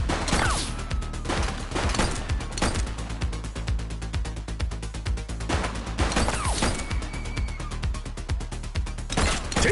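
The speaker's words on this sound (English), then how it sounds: "Watch out! He's shooting! He's shooting!" Gunfire in the video game The Precinct, a dense, sustained fusillade of rapid shots with sharp crashing bursts, loud and continuous throughout.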